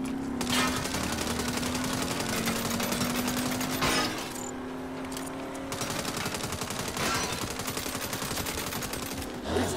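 Dense automatic gunfire from the Saints Row video game rattles continuously and loudly, with a brief lull near the middle before the shooting resumes.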